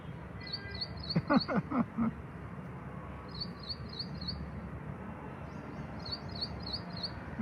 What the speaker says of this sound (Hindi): ये चिड़िया बोल भी रही है